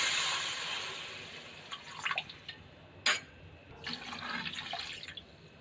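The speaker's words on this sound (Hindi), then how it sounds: "अब हम इसके अंदर वाटर ऐड करेंगे। 4 ग्लास वाटर हमने इसके अंदर ऐड करना है।" Water poured from a glass into a pot of lightly browned chicken for soup, a steady close splashing stream with drips and a few sharper splashes, no talk.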